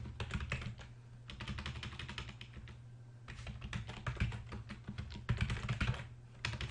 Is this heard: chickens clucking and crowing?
no